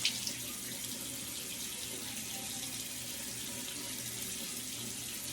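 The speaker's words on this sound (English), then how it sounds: "Let me rinse it out." Water runs steadily from a tap as a washcloth is rinsed under it, a constant close splashing hiss with no talking.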